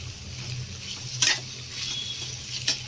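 Sweet potato, cauliflower, carrot and other vegetables for Maharashtrian bhogi bhaji sizzle steadily in a pan. A spoon scrapes through them twice with sharp stirring strokes.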